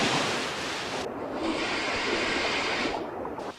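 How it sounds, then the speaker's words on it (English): Stormy sea in an animated cartoon, with broadband rushing surf and wind blowing steadily and fairly loud, the roar dipping briefly and surging again, no voices. "there's a storm brewing"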